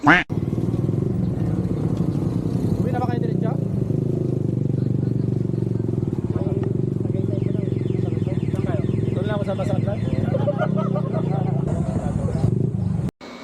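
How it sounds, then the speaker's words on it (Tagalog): Constant low engine drone of many idling and passing motorcycles at a riders' club charity event, with occasional revs and a voice speaking over the traffic noise. "ang daming motor"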